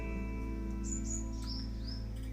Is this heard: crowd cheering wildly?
no